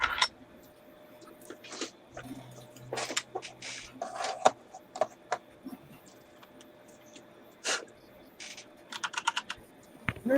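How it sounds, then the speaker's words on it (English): Clattery typing on a noisy computer keyboard, bursts of sharp clicking keystrokes in irregular runs with short pauses, close and fairly loud, with one quick flurry near the end. "I like the noisy one for when I'm just typing"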